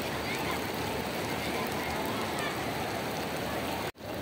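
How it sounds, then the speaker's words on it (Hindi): Heavy rain at Masjid Nabawi pours in a loud, continuous roar, drumming steadily on surfaces nearby, then cuts off abruptly just before the end. "अभी बारिश तो बहुत ज़्यादा तेज़ हो गई है, आप देख सकते हैं,"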